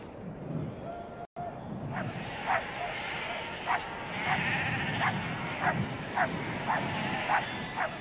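Flock of sheep driven down a mountainside in Iceland, bleating repeatedly at moderate distance in a scattered, overlapping rhythm over a steady outdoor background.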